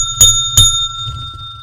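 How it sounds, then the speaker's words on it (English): A bell is struck twice at the close of a pro-wrestling talk show, two bright ringing dings about a third of a second apart, loud and close, with a steady tone lingering under a low background hum. "upgraded bell next year"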